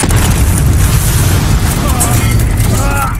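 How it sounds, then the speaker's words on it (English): Loud, sustained booming blast of a missile explosion from the action film Transformers: Age of Extinction, dense rumbling roar filling the whole stretch with shouting voices underneath. "Missiles out, danger close."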